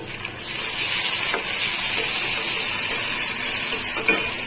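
Garlic goes into a pan of frying home-garden vegetables, raising a steady, close sizzle with a soft hiss that swells after the first half second and carries on evenly, touched by faint clinks of stirring.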